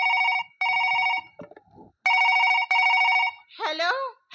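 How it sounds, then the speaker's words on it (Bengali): A telephone rings in two bursts of repeated electronic trills, loud and close, with brief speech between the bursts and a voice answering afterward. "ফোনটা করে দেখা যাক"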